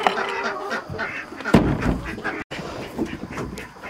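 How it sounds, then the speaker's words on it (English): Ducks and chickens penned at a modern homestead call out steadily, a busy overlapping chorus of quacks and squawks close by, with one sharper burst in the middle. "Sounds like the ducks and the chickens want to get out of New York City."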